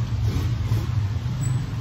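Motorcycle engines on a nearby road in the Philippines, a steady low droning rumble passing close by with no talk over it.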